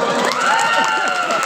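Audience at a comedy show claps and cheers for a contestant, a dense, continuous wash of applause with shouting voices mixed in throughout.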